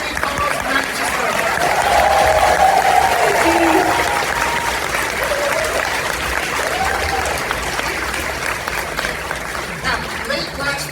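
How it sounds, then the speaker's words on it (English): Large audience at a furry convention opening ceremony breaks into loud, sustained applause and cheering, a dense wash of clapping that peaks early and then gradually tapers off. "Big round of applause, please, for Tiny Paws Manchester."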